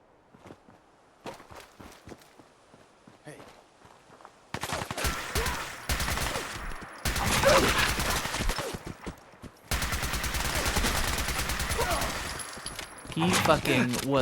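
Gunfire in Fallout 4 begins with soft footsteps, then erupts into loud, sustained automatic bursts with brief pauses between volleys, close and harsh, ending in another heavy burst.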